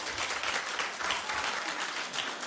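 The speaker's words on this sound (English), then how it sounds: "Clap." A television talk show studio audience claps in a continuous, even burst of applause from many hands, steady and moderately loud throughout.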